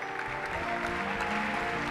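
A church congregation claps steadily in a dense, continuous wash of applause as a clap offering to welcome a bishop at a Tuesday service, heard close and sustained throughout.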